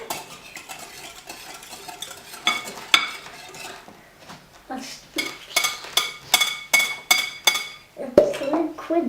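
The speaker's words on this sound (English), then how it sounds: "Mix very well, Alicia." A utensil clinks and scrapes against a bowl while pancake batter is mixed at home, with irregular then steady rhythmic strokes, close and fairly sharp, and a few brief bursts of voices.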